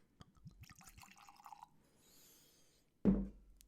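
Jack Daniels Bottled in Bond whiskey poured into a glass: soft trickling and glugging up close, ending in a brief louder knock as the bottle or glass is set down.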